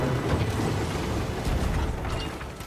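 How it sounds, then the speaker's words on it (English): Chain shot firing in the video game Sea of Thieves, a loud rumbling blast mixed with rattling, ratchet-like mechanical clatter that sustains for a couple of seconds before tailing off, with no voices. "You should also be able to recognize the sound of chain shot firing."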